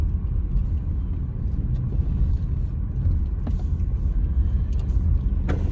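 A car engine rumbles steadily and close as the car pulls into a shady parking spot, with a dense low drone and a few faint mechanical clicks, and no talking.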